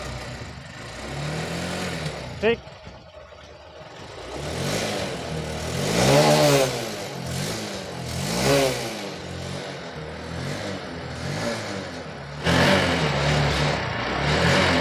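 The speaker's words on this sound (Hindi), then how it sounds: "अभी मैं लगाता हूँ सेल्फ इसका और बाइक को करते हैं स्टार्ट" A Honda Shine BS6 motorcycle starts on its electric self-start, with a brief click, then settles into a steady idle broken by several rising and falling revs, close by and fairly loud.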